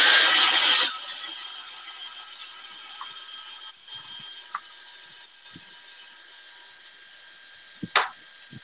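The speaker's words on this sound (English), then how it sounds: "can you hear the drill change pitch when it's like done cutting?" A power drill trims a case to minimum depth, starting with a loud, high, whining burst that drops off after about a second to a faint steady hum, followed by scattered small clicks and a sharp knock near the end.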